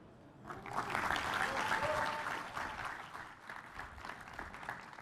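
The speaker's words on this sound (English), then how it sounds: "Another round of applause for Buffalo." Conference audience applause fills a hall, a dense burst of clapping that swells quickly, peaks, then gradually tapers off into lighter, scattered claps.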